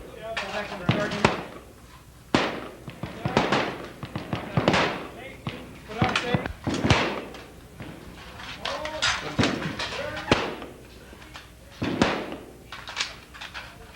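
Sharp rifle shots crack repeatedly on an Air Force basic training firing range, loud irregular reports spaced a second or two apart with short gaps, while voices murmur between them.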